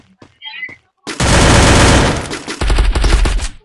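Rapid automatic gunfire in the Free Fire video game, two loud dense bursts after a brief excited spoken exclamation, close and dominating the mix.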